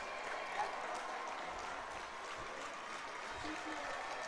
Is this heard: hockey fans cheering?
yes